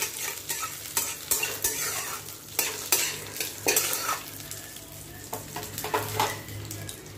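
Peanuts frying in mustard oil, a steady close sizzle broken by repeated scraping stirs of a spatula in the pan, with no voices.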